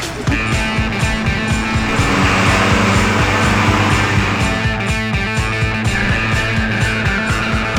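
Car traffic in central London, a loud, busy street wash of engines and tyres rolling past nearby with repeated low rumbles and a continuous roar.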